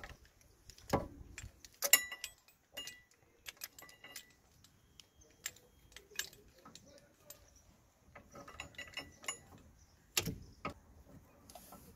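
Quiet, scattered metallic clicks, ticks and light clatter come from a rear brake caliper piston being wound back by hand on a Mitsubishi Lancer Carisma, irregular and close, with a few sharper knocks.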